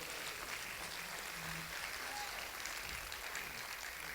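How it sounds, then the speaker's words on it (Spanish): A church congregation gives an offering of applause to God, a steady, even wash of many hands clapping with a faint, distant quality and no talk over it. "Dale fuerte esa ofrenda de palmas a nuestro Dios."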